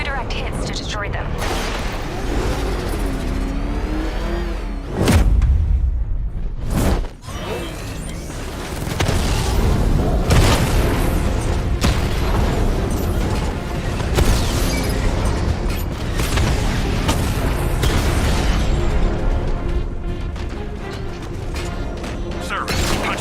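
Batmobile 60mm cannon firing at heavily armored tanks in Batman: Arkham Knight, heavy booming blasts with sharp bursts near 5 and 7 seconds amid constant mechanical rumble, with voices talking over the action.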